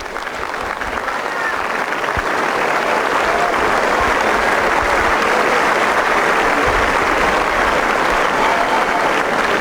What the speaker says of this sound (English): There's almost an air of inevitability about the applause as the women leave the chairs